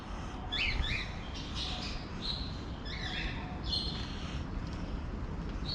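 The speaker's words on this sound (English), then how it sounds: "There are birds in there, but they're all right at the back." Birds in an enclosure chirp and squawk in scattered short calls from a distance, above a steady rumble of background noise in a city setting.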